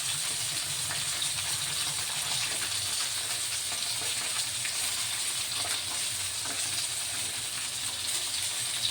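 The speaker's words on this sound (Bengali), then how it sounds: "আমার মাছটা খুব ভালো করে ভাজা হয়ে গেছে।" Koi fish sizzles continuously as it fries in a pan, a dense, even crackling hiss held at a steady close level for the whole stretch with no voices.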